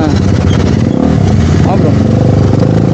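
Motorcycle engine droning steadily on the Medak road near Hyderabad, recorded close from the bike itself with wind rumble, and a rider talking over it throughout.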